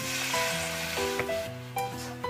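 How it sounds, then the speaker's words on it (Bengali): Ginger-garlic paste with turmeric, chilli, coriander and cumin powders sizzles in a pan after a splash of water, a continuous close hiss and crackle over a steady tonal hum. "জলটা দিয়ে তখন মশলাটা কষে দিচ্ছি"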